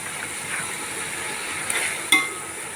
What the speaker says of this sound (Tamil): இப்போ வெங்காயம் அரைச்சி வச்சதை போட்டு நல்லா வதக்கிக்கலாம்.